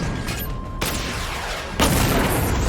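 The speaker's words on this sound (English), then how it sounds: "Missile barrage level 1 ready." Heavy booming missile barrage launches from Batman Arkham Knight, two big surges of roaring blast noise that sustain and swell, loud and close, no talking.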